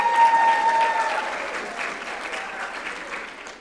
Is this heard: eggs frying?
no